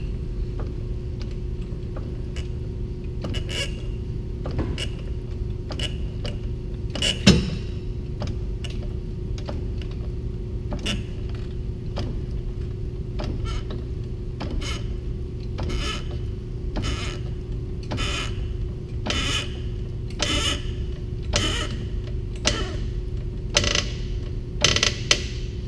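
A floor jack is pumped to lift a car at its factory jack point, giving a long series of regular metallic clicks and creaks over a steady low hum, spaced about a second apart and growing denser toward the end.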